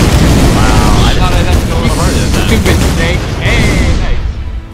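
Loud, dense booms and rapid blasts from tank shots exploding in the Shell Shock Live video game, rumbling continuously with voices talking over the barrage.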